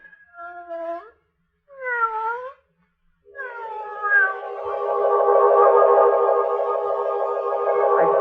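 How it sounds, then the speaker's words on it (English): A cat in a radio drama gives two short separate meows, then a long drawn-out wailing caterwaul with an echoey, wavering, effects-processed tone, loud and alone without any talk. "the cat with the yellow eyes watching from the doorway"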